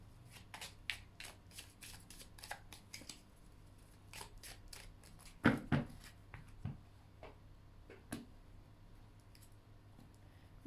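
A deck of tarot cards is cut and handled by hand, producing a quiet series of crisp card clicks and flicks, with one louder shuffling snap midway and scattered taps afterward.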